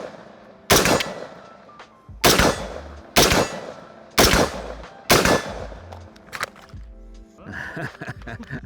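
An Andro Corp ACI-15 Bravo 16 AR-15 rifle fires five loud, sharp shots at roughly one-second intervals, each ringing off briefly, followed by a quieter clatter at the end.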